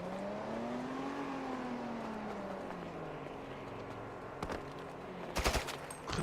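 Bursts of gunfire from weapons in the GTA RP video game break out near the end, loud sharp volleys over a steady engine-like drone and game ambience.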